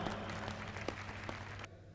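An audience at a kavi sammelan in Indore applauds poet Ramesh Sharma with dense, steady clapping that holds at an even level for nearly two seconds, then drops away abruptly.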